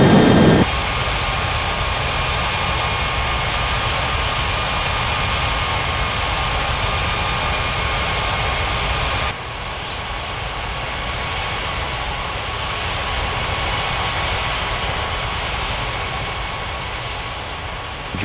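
Airliner jet engines roar steadily on the runway at Bali airport, a loud continuous broadband rumble and whine that drops slightly in level partway through and then holds, with no talk.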